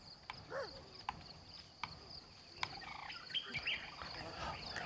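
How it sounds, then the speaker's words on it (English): Small birds chirp in a morning scene from the video game Ancestors: The Humankind Odyssey, with scattered high tweets over a steady insect-like hum and soft ambient rustle, fairly faint throughout. "little birds in the morning"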